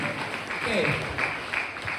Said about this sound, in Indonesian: Oke, tepuk tangan buat Bung Rocky.